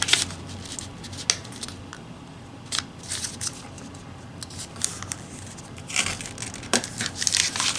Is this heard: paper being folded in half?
yes